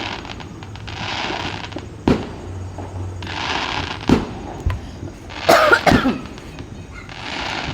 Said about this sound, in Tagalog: Wow, sana all may fireworks.